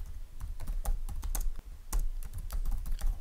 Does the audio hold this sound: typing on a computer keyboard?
yes